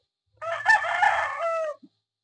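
A five-month-old pure Sweater gamefowl rooster crows once, a single close, clear call of a little over a second that stands alone.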